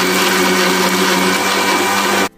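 A kitchen blender grinding fresh ginger and garlic into paste, a loud, close, steady motor whine that runs continuously before cutting off abruptly at the end.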